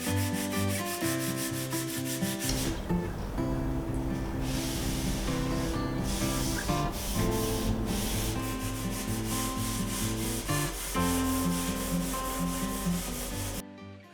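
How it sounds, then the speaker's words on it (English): Steady, close hand sanding on wooden corner cabinet doors, with continuous rhythmic rubbing strokes under a constant mechanical hum. "I hand sanded those spots until the marks were gone"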